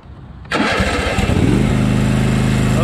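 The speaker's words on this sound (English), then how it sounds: "It's going to get loud because I'm about to start the mower" A Toro TimeCutter lawn mower engine cranks and catches suddenly, then settles into a loud, rough, sputtering idle close by.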